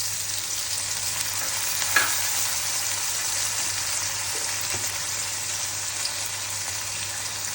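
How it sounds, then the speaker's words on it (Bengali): Spices with ginger and garlic paste fry in a pan with a steady, bright sizzle, close and continuous, broken by a couple of faint clinks of stirring, with no talking. "আমি সব মশলা দিয়েছি, কষাচ্ছি"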